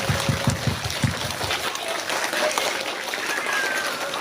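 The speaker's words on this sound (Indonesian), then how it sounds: "Tepuk tangan anak-anak untuk ibu guru kita." Children clapping for their teachers at a Kartini Day school ceremony, a fairly loud burst of applause in rhythmic unison claps at first, then a broad steady patter over outdoor ambience.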